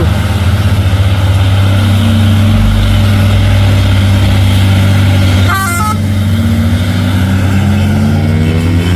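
A loud, steady diesel drone comes from a Hino trailer truck hauling iron up the steep Bukit Kodok climb, its engine note rising slightly, with a brief horn toot in the middle.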